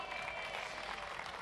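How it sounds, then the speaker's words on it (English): Round of applause from the audience at an evening of entertainment with skits, a faint, distant, steady wash of clapping without distinct peaks. "Now a special round of applause for Warren De Silva"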